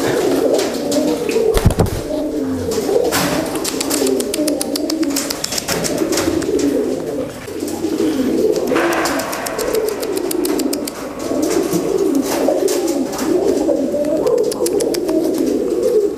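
A pigeon coos near its cage in repeated soft, throaty rolling calls, close by and continuous, with a few sharp clicks and rustles mixed in.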